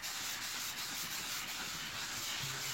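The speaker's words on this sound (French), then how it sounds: "Je vous montre quand même comme je ponce. Tout simplement, je le prends à plat et je force pas." Sandpaper is rubbed flat and gently by hand across a cracked, damaged leather seat, producing a continuous close, soft hissing scrape with faint rhythmic strokes.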